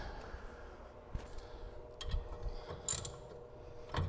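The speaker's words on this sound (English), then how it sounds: "I think I can use a ratchet at this point." A ratchet turning on the rear brake of a 2004–2008 Acura TL during a brake rebuild, faint scattered clicks and metallic clacks close by in a quiet garage, with no talk.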